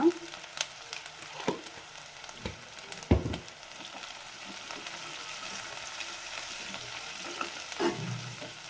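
Chickpea usli seasoning fries in a pan with a soft continuous sizzle. A utensil scrapes and clanks against the pan now and then, close by and fairly quiet, with only faint talk.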